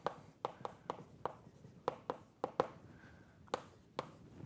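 Writing on a board comes as a series of short, distinct scratchy strokes in an irregular rhythm, close and fairly quiet, with no talking.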